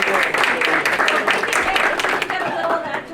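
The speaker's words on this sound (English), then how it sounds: "they really deserve a huge round of applause" A council-meeting audience applauds the staff of Solitude House: a dense patter of hands at fairly close range, mixed with talking that runs over the clapping for the whole few seconds.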